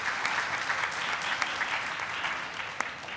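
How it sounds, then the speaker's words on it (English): Steady applause from an audience at a high school senior awards ceremony, dense and continuous throughout with a few sharper claps standing out. "Please give a round of applause to yourselves and congratulations."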